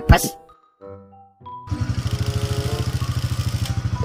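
A motorcycle engine starts up and idles with a steady, rapid throbbing pulse, loud and close, after a few brief clicks and rattles.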